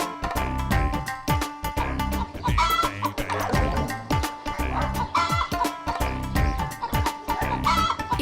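Chickens cluck and squawk repeatedly over loud, busy background sound in an indoor household scene from a Telugu TV serial, with the calls continuing throughout.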